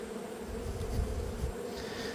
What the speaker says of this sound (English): you're going to hear a lot of bees buzzing around me because they're not going to be real happy that I'm taking this out